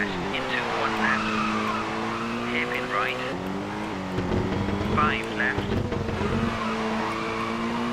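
A rally car in the Colin McRae racing game slides through corners on a snowy Austrian stage, its engine droning and shifting pitch with squealing tyre skids, while a person talks over the action.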